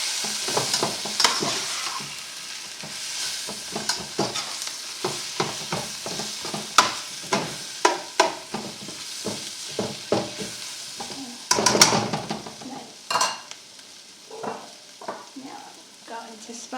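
A fajita mixture dusted with smoked paprika is stirred in a sizzling pan, giving a bright continuous sizzle with repeated close clatters and scrapes of the utensil in an uneven rhythm.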